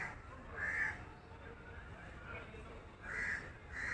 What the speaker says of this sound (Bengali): কোকিলের ডাক এত সুন্দর আসছে